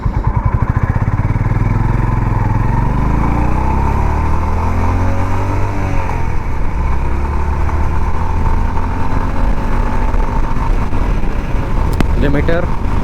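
A Honda Highness 350 motorcycle's engine roars loud and close as it revs up through the gears, its pitch climbing and dropping with each shift, with a voice faintly under the noise.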